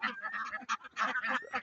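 Ducks on a duck farm quack in loud, close, ragged bursts, several calls overlapping and stopping and starting in quick succession, with no talking.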